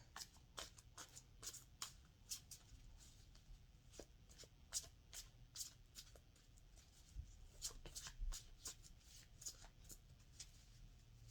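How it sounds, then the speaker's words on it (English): A tarot card deck shuffled by hand, giving quick, faint riffling and snapping bursts in a steady, repeated rhythm for a long stretch, close and without talk. "Y'all saw me shuffle the deck"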